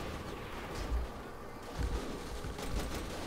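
Gunfire in Saints Row The Third, a few muffled booms and short bursts of shooting under a busy game soundscape, fairly faint and with no speech.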